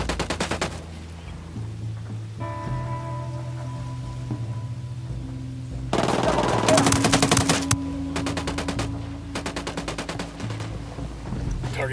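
Bursts of automatic gunfire from a Black Ops military video game, loud rapid rattling volleys over a steady low engine drone and music, with the heaviest fire packed together midway and further volleys after.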